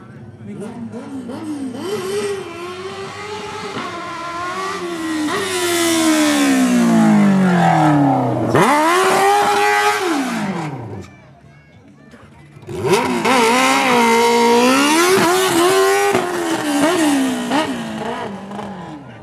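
A Formula Student race car from Kecskemét college, with a 100 hp engine, 260 kg weight and electropneumatic gearbox, revs loudly up and down through repeated sweeps at a street motorsport show, with a brief lull midway and a voice over it.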